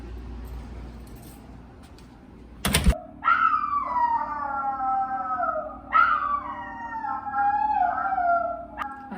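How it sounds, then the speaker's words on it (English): Dogs howl mournfully after their owner leaves, two long drawn-out wailing howls rising and falling close by, preceded by a sharp clatter like a door or keys, with no talking. "They're going to bark and be sad that I left"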